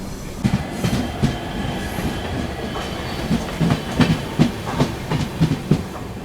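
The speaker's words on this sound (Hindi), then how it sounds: "ट्रेन दोस्तों अपनी पहुँच रही है Rangapara north junction railway station पे" A passenger express train rolls into Rangapara North Junction station close by, wheels clacking rhythmically over rail joints with a steady rumble and faint metallic squeal.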